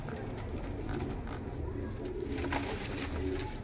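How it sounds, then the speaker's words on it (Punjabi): Mixed young and adult pigeons cooing in a loft, soft repeated coos under a steady background hum, with no clear talk. "ਮਿਕਸ ਕਬੂਤਰ ਨੇ"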